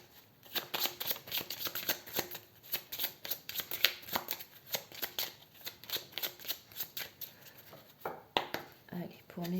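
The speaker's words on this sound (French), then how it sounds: "On va retirer tout de suite deux autres cartes pour voir sur quoi vous devez travailler" Tarot cards being drawn and shuffled from a deck, a rapid run of crisp papery flicks and slaps in irregular bursts, close and fairly quiet, with a voice speaking over parts of it.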